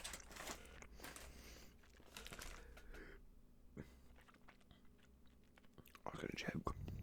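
Close, quiet chewing and crunching of spearmint chew candies, soft wet mouth sounds and bites coming in irregular bursts, with faint rustling and a few quieter moments between.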